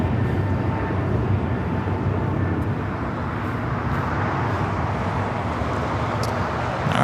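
An American Airlines Airbus A321neo takes off at LAX on an overcast day, its jet engines a broad, steady roar filling the air without a break for several seconds.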